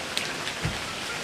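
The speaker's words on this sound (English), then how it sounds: "we're out of the rain and it's been raining fairly heavily" Heavy rain falling outside a trail shelter on Mount Marcy, a steady dense hiss of drops with a couple of faint sharper taps, no talking.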